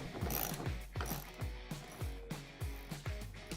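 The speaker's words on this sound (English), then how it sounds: "Then you can take either a wrench or a socket and just go ahead and tighten it up." A socket ratchet or wrench tightens a bolt on a Milwaukee PACKOUT handle release pin, making sharp, repeated clicking strokes in an even rhythm, close and clear, with no talk.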